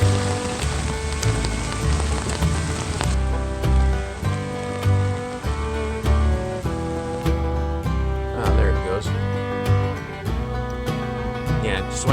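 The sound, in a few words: hail hitting a Jeep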